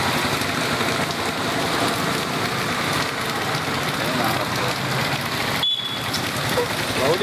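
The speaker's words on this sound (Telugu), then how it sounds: "వర్షం వ్యవసాయంపై ఆశలు మొలకెత్తేలా చేసింది" Steady rain falls in a district in Andhra Pradesh, a dense continuous hiss with a brief dropout near the end; speech can be heard under it.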